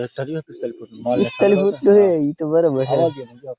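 Several goats bleat in wavering, quivering calls, overlapping with people talking nearby.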